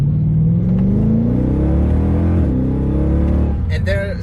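A Mercedes-Benz W204 C63 AMG with a full aftermarket exhaust system revs up with a deep, throaty exhaust rumble that climbs and holds, close and loud, before a brief burst of higher sounds at the end.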